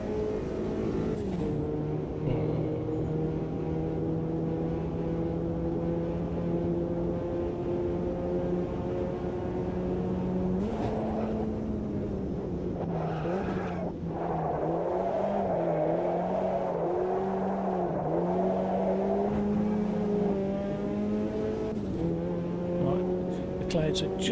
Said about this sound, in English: You listen to the revs now when I change from 4th to 5th.